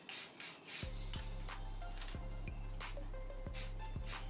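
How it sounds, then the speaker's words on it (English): Faint bursts of spray hiss from a spray paint can over a stencil, a few short sprays over a quiet background with a low repeating tick. "Okay, so now we're gonna just spray this."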